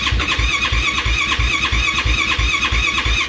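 A 2023 Yamaha YFZ ATV with a Vortex ECU starts hard, cranking with a loud, close, rhythmic chugging pulse about three times a second that never quite catches into a clean idle.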